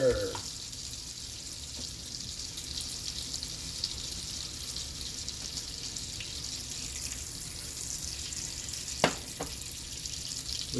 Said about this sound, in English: We get that butter all melted.